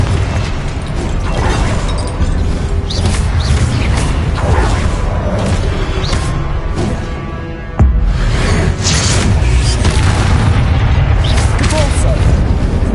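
Confringo spell blasts in the wizarding game Hogwarts Legacy, with loud, dense explosive bursts and mechanical clatter packed together over a continuous roar, one brief dip midway, while a voice speaks.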